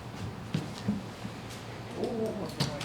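A bird cooing effect during a live stage play, soft pigeon-like coos repeated a few times at low volume against a faint theatre background.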